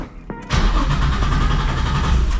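A supercharged Nissan 350Z cranks briefly and catches, then settles into a loud, steady idle close by with a rough, throaty rumble.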